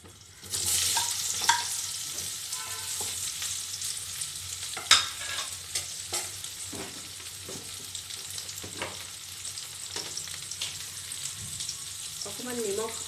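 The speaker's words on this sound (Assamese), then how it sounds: "এতিয়া মই ইয়াতে আলুখিনি ফ্ৰাই কৰি লম" Potatoes frying in a pan for an Assamese egg curry, a steady broadband sizzle throughout with occasional stirring scrapes and clinks, close and moderately loud, with no talk over it.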